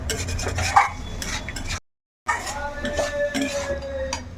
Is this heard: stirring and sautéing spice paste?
yes